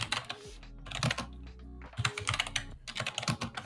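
Rapid clattering keystrokes on a computer keyboard, close and fairly quiet, coming in uneven bursts with short pauses between them.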